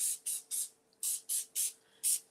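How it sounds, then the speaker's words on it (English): Olive oil cooking spray from an aerosol can, seven short hissing bursts in quick, even succession, close and clear with brief pauses between. "I am going to spray just a little bit of olive oil"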